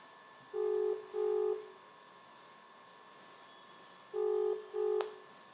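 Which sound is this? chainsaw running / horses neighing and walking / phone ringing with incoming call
phone ringing with incoming call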